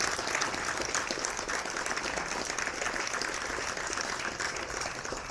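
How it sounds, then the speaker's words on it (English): A crowd applauds event staff at a RoboBoat 2025 orientation, a dense, steady clapping that carries on without a break and sounds a little distant. "we will give you a big round of applause"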